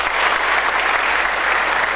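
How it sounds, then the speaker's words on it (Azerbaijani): An audience at a 50th-anniversary jubilee concert applauds clarinet master Şəmsi, a dense, steady clapping from many hands that fills the room, close and loud throughout. "Xahiş edirəm alqışlayaq."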